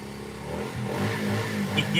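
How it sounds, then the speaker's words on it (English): A moped scooter engine running across the street, a distant, mid-pitched motor drone that swells slightly, with a brief clatter near the end. "Oh, I think they got the moped going across the street."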